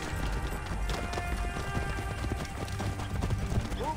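Horse hooves clip-clop at a gallop during a chariot-style race against raiders in Assassin's Creed Origins, a continuous quick rhythmic pounding under engine-like game ambience with a faint whinny, moderately quiet.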